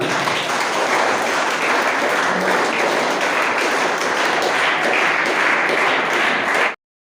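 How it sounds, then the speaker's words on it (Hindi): Children at a school ceremony at Gorkha Military Inter College in Dehradun applaud a visiting colonel, a steady, dense roar of clapping that holds evenly and then cuts off abruptly. "बच्चों तालियां।"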